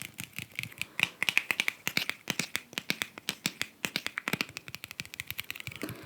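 Rapid, crisp little taps and clicks patter close by in uneven bursts, fingertips drumming on a tube of paint.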